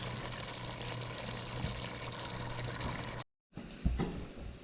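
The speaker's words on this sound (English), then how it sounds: "We add a little bit of water so you can cook." Water is poured into a pot of cooking Guyanese-style Hassa curry, a steady close trickle that cuts off briefly before a few more splashes and stirring sounds.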